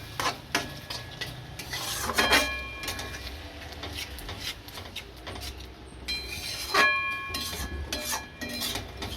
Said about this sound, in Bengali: এবার ভালোভাবে নাড়ব